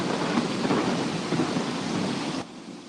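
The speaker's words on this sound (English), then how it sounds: "Oh man, storm's coming." Thunder and steady rain from an approaching storm, a loud continuous rumbling wash of rain with low thunder rolling underneath, cutting off abruptly near the end.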